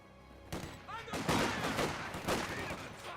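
Bursts of MG42 machine gun fire and scattered gunshots in a Company of Heroes 2 battle, loud and dense, with a faint voice partly underneath.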